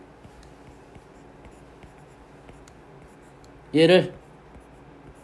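A pen or marker scratches out a math expression, making faint, steady ticking strokes throughout, interrupted near the end by a brief spoken word.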